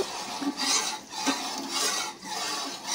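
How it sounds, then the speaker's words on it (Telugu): Cucumber and tomato dal (dosakaya pappu) being stirred in a pot, with repeated scraping, swishing strokes of a spoon against the pot in a steady rhythm, close and moderately loud, with no talking. "దోసకాయ పప్పు ఈ విధంగా పోసిన తర్వాత కలుపుకోవాలి. ఈ విధంగా కలుపుకోవాలి."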